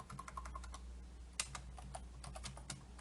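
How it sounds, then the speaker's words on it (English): Rapid, fairly close typing on a computer keyboard while searching the web, with uneven clusters of clicking keystrokes and a few louder taps over a low background hum. "let's type in Ricky Gervais here"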